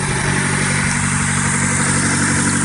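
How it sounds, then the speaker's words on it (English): A 1994 Mazda MX-3 engine runs at a steady idle, heard up close as a loud, even mechanical drone with a constant hum and no talking. "Here's what the engine sounds like."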